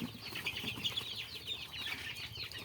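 A chicken flutters and shuffles with soft, repeated wing flaps and faint clucking, close by and fairly quiet with a low background rumble.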